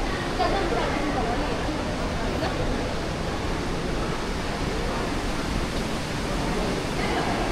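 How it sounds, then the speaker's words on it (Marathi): A steady, broad roar of rushing water fills the whole stretch, constant and loud like a nearby waterfall in Nepal, with faint voices blurred beneath it. "आवाज येतोय तो सगळा पाण्याचा आवाज आहे तिकडं पलीकडं."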